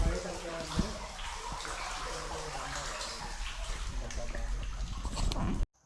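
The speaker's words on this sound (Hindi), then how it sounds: "पानी की आवाज़ आ रही है बस।" Steady rushing water flows inside a railway tunnel, Tunnel 33 at Barog, as a continuous broadband wash with no letup, close and fairly loud, and faint voices may be present underneath.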